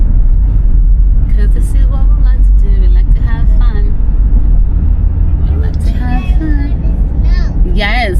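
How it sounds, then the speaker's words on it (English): Land Rover Defender driving on snow, a loud, constant low engine and road rumble filling the clip, with people talking over it throughout. "we're going to drive on the snow"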